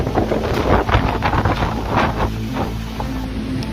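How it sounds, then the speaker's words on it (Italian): Strong storm wind in São Paulo with gusts near 100 km/h. It roars and buffets right at the microphone in loud, uneven surges, with no talk. "Força do vento, todos os carros parados."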